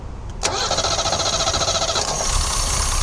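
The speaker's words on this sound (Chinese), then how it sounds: "大哥到外面来用手动来启动，来发动引擎" A Mercedes W116 280SEL engine with a clogged fuel tank is started by hand, turns over and catches, then settles into a steady, loud idle with a faint rhythmic pulse.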